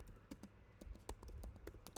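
Someone typing code on a computer keyboard produces quiet, irregular close key taps with uneven bursts and short pauses, and nothing else around them.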